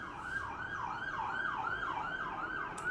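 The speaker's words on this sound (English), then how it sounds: "before the ambulance went by" An ambulance siren wails in a steady rising-and-falling cycle, loud and continuous as it passes, with no talk over it.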